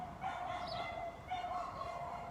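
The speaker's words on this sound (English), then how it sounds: "I hear one of my neighbor's dogs going crazy." A neighbor's dog barks at a distance in a loose run of yaps, faint and outdoors, with a steady background hum underneath.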